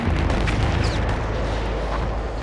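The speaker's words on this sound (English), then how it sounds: "Explosions!" Booming explosions rumble in the World War stage of the video game Eternal Darkness: Sanity's Requiem, a continuous heavy low roar with bursts layered on top, loud and sustained for the full stretch.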